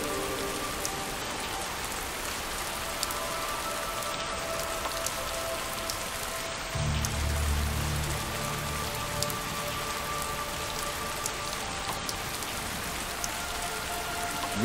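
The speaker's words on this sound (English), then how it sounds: "Persistent rain is causing floods." Persistent rain in a video game, a steady close hiss of drops on surfaces that continues throughout, with a brief low rumble about halfway through and no voices.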